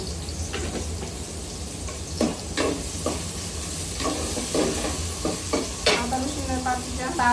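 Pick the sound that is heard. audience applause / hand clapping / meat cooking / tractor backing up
meat cooking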